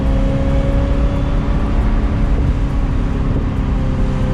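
A 25-year-old Ferrari engine pulling hard toward 9000 RPM, heard from inside the car as a loud, dense, unbroken mechanical drone.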